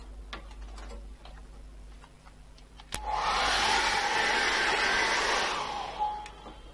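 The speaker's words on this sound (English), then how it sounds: "I'm going to dry that off with a hairdryer." A hair dryer switches on abruptly with a click and blows loudly and steadily for a few seconds before cutting off, after quieter clicking and handling.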